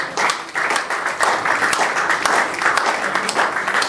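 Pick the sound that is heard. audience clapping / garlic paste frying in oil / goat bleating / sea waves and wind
audience clapping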